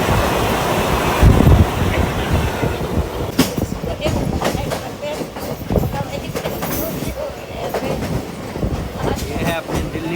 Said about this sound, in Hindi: लोको पायलट ने हरा सिग्नल दे दिया है, और अपनी ट्रेन निकल चुकी है